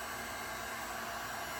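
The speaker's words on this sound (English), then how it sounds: "So this is the DFD Torch and Blow" A DFD Torch and Blower heat gun blasts hot air over poured resin art, giving a loud, constant broadband roar like a hair dryer, unbroken for the whole stretch with no talking.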